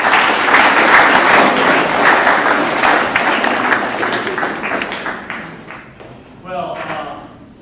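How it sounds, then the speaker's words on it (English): Audience applause at a kickoff meeting, a dense wash of many hands clapping that gradually thins and fades before a brief final burst of clapping near the end. "So let's give him a round of applause."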